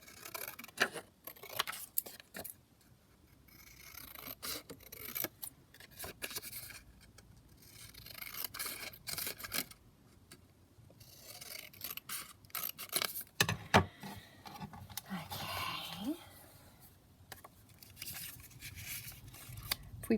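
Scissors snip through fabric flower embellishment pieces in a series of quiet, irregular cuts with soft rubbing and handling noises between them, no voices heard.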